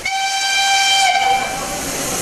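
A steam locomotive whistle in Pakistan, on a heritage engine brought back onto the track for a tourist safari train, blows one long sustained multi-tone blast with hissing steam around it, loud and close.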